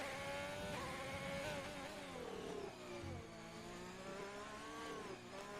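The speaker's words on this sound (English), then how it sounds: "That is major short shifting out of the Alfa Romeo." An Alfa Romeo Formula 1 car in an F1 video game race revs hard and short-shifts repeatedly, its engine pitch climbing and dropping in quick steps, steady and close with no talk over it.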